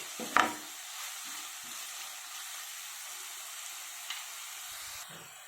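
Potatoes and peas with salt fry in a pan, giving a steady, moderate hiss of sizzling oil, with a sharp clink at the start and faint stirring sounds.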